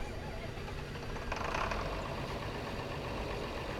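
A John Deere tractor engine in Farming Simulator 22 starting and then idling, with a low continuous rumble and a brief burst of higher mechanical noise midway, steady and close.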